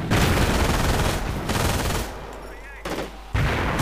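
Machine gun bursts in a Europe in Ruins wartime strategy game, loud rapid automatic fire for about two seconds, then a quieter lull broken by short renewed bursts.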